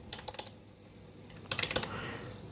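Fingers type on a computer keyboard while entering a registry value, two quick bursts of clicky keystrokes separated by a quieter pause, close and clear.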